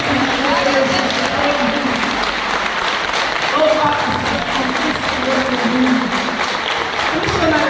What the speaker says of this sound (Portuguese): Aplauda o Senhor bem forte, para a glória de Deus.